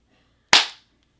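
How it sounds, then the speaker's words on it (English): A single sharp hand clap rings out alone in a quiet room during an interview recording. It is one crisp, close slap that decays quickly into silence. "Give us a little clap up and so we can see it."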